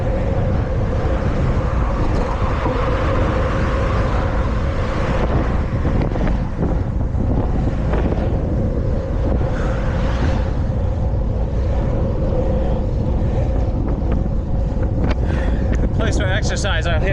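Breeze buffeting the microphone on a wide boardwalk, a loud, continuous rushing roar with gusty swells throughout.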